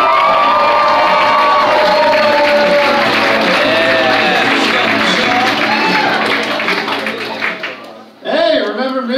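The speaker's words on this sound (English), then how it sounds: "Give it up for the very funny Michael Huebner!" A comedy club audience cheers, whoops and claps for a comedian coming to the stage, a loud dense roar of crowd noise that fades near the end before a voice starts speaking.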